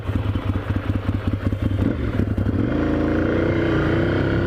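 Cold Ducati 696 motorcycle with an air-cooled engine, just started, runs loud and close. It begins with a choppy, uneven idle, then settles into a steadier, smoother drone.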